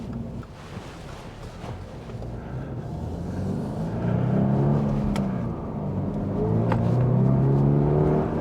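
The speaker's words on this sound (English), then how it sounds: "almost 3-cylinder sound that the flat fours have. It's sort of this funny little rasp." The flat-four engine of a Toyota GR86 GTS gives a raspy drone that rises in pitch as the car accelerates on the road. Steady wind and road noise sit under it, and no one speaks.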